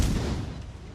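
A warship's main guns fire in a naval battle in World of Warships: Legends, a single heavy booming report with a rumbling low tail that fades over a second.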